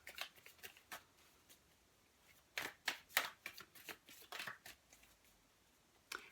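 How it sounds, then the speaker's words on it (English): Love tarot cards being shuffled and drawn by hand, giving soft, quiet riffling and crisp card snaps in irregular bursts, with no talking. "I'm going to pull a couple of Chuck Spezzano love cards"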